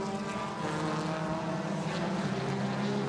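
Citroën touring car engine under throttle during a WTCC race in Shanghai, a loud, steady droning roar with a sustained engine tone and no voices over it.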